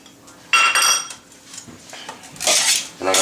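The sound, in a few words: mixing salad with olive oil and balsamic dressing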